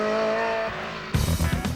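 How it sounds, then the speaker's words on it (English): A Ferrari engine howls at full throttle, loud and continuous, with a sharp gear change midway before the roar returns harder and rougher. "smells, sounds and sensations of the Ferrari Philharmonic on full song behind you"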